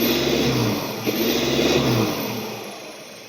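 A Toyota Fortuner VNT SUV engine with an ADR performance exhaust revs with a deep, throaty exhaust rumble that swells and then settles lower, loud and close, with no voices.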